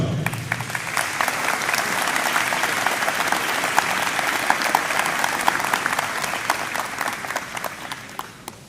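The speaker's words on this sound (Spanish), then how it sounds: "Le damos un fuerte aplauso." An audience at a city anniversary ceremony applauds a municipal band, loud sustained clapping close by from start to finish that fades slightly at the end.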